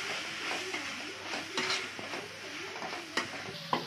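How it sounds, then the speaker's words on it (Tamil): Masala with green chillies being stirred and mixed in a frying pan, a low continuous sizzle under repeated scraping and clinking of a spoon against the metal pan, close and fairly quiet, no voices. "இப்போ நல்லா மிக்ஸ் பண்ணிக்கலாம்."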